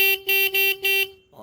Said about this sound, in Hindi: हॉर्न बजा रहे तो अभी निकल रहा हो